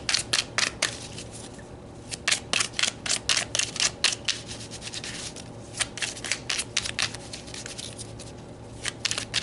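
Tarot cards are shuffled close up in a series of quick, crisp riffling bursts and sliding rubs, coming in irregular rhythmic clusters with brief pauses between them.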